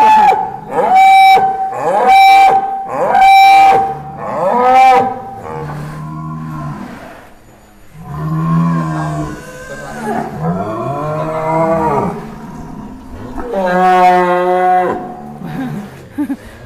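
A large rare-breed bull lows loudly in a series of long, harmonic moos, several drawn-out calls close by with brief gaps between them and no talk over them.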